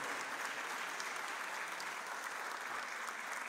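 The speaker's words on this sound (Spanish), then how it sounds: "un aplauso para ustedes también por estar aquí acompañándonos en este bonito festejo." Steady crowd applause at an outdoor heritage-day celebration in Nuevo León, a continuous broad clapping from many people, even and moderately loud throughout.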